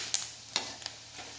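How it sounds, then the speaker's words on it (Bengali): Fish roe fritters fry in hot oil, a soft continuous sizzle with a few sharp spatters and taps, faint and close, with no talking. "আর এইভাবেই কিন্তু লাল করে পুরো ভেজে নিতে হবে"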